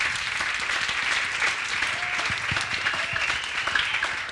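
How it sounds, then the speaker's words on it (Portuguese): A crowd applauds steadily, a dense wash of clapping hands that holds at an even level throughout with no talking over it. "uma salva de palmas para os nossos convidados"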